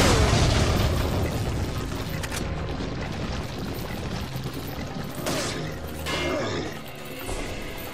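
A grenade explosion in the video game Resident Evil 4, during the Assignment Ada mode, booms loudly at the start and then rumbles and decays under scattered game noise.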